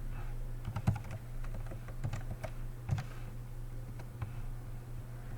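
Keystrokes on a computer keyboard as a username and password are entered, a quiet run of soft clicks in short bursts with pauses between them, close by and alone over a low steady hum.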